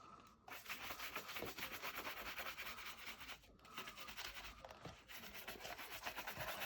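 A brush sweeps excess Saphir polish off a leather shoe welt with quick, continuous back-and-forth scrubbing strokes, faint and close, with a brief pause in the middle.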